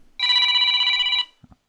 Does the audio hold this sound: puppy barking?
no